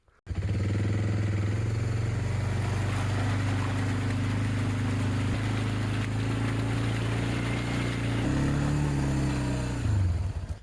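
A vehicle engine drones loudly and steadily while driving through a flooded low spot in a road, with a continuous rushing wash throughout and a change in engine pitch near the end.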